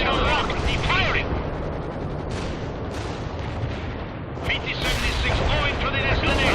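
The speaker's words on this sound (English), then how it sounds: "Light armor ready for combat. Position locked. Firing." Light armor tank in the World in Conflict strategy game fires over dense battle noise, heavy booms and explosions rolling under radio-style unit voice chatter, loud throughout.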